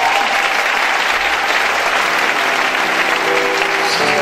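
A church congregation at an Easter service bursts into loud, sustained applause and cheering acclaiming Jesus, a dense crowd roar that holds steady throughout.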